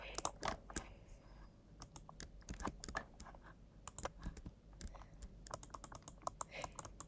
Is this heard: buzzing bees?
no